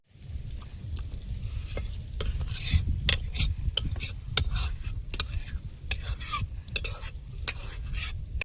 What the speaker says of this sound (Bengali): চিকেন রেডি হয়ে গেছে, প্লেটে ঢেলে নেব।